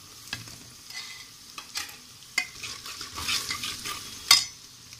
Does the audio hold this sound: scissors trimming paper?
no